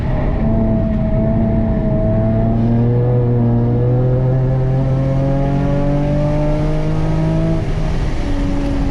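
A Nissan 370Z NISMO on the Sonoma track roars loudly and close, its engine tone climbing and dropping through shifts with rev-matched downshifts, steady and dominant with no talk.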